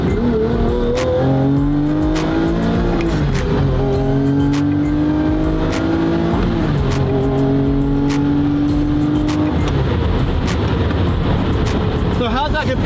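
A twin-turbo Lamborghini Murcielago SV with a manual conversion revs loud and close through several upshifts, its engine note climbing and then dropping with each gear change, with voices faintly audible over it.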